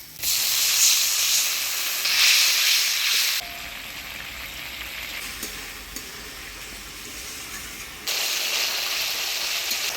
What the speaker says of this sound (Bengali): এবারে অল্প জল দিয়ে মশলাটা ভালো করে কষাই নিই।